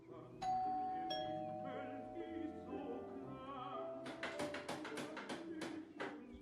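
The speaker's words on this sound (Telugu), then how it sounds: "నిద్రపోతూ ఉంటారు, మళ్ళీ బెలుగొట్టు." Rung again in the Telugu-dubbed 2019 horror thriller Tailgate, a doorbell gives two ding-dong chimes. A quick series of sharp taps or knocks follows, close and fairly loud.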